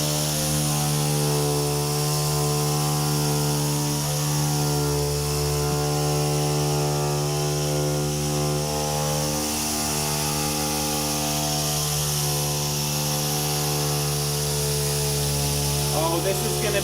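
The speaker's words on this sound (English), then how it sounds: "Watch as Anthony sands off the remainder clear of this Honda." Power sander grinding the remaining clear coat off a Honda's paint, a loud steady drone with strong harmonic whine lasting throughout, close and continuous.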